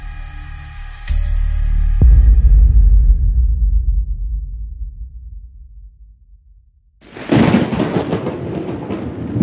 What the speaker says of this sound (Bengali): বিদঘুটে অসম্ভব জোরালো একটা শব্দ করে বাজ পড়ল কাছে পিঠেই।